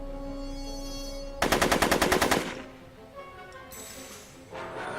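Rapid burst of automatic gunfire from the video game Back to the Future: The Game, loud and close, about a second of fast repeated shots over a steady game background hum, then quieter ambience and a later noisy swell.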